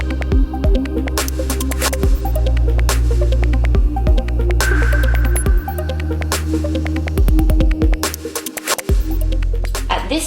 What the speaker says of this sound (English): milling machine, the next step is to weaken the nail plate in bend place